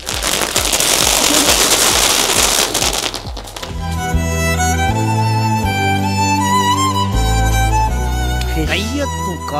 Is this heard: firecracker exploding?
yes